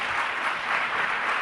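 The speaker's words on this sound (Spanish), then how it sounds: "así que le damos un aplauso, por favor." An audience at a Spanish-language conference session gives a brief, steady burst of applause, dense and even from start to finish, with no voices standing out.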